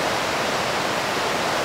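The flooded Roya river in spate rushes and crashes in a dense, loud, continuous roar of turbulent water, heard close up with no voices.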